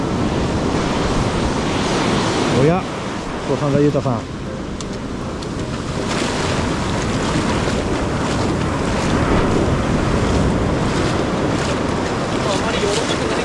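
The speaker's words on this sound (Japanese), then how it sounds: "さあどうでしょう、何気にいい波だよこれ。" Surf waves breaking steadily on a beach at low tide, a constant wash with strong wind buffeting the microphone and brief talk over it.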